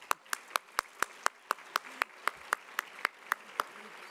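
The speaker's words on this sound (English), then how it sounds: "let me just give you a round of applause" At a fellowship luncheon, clapping comes as a slow, steady series of about sixteen crisp, evenly spaced claps, fairly faint against a quiet room.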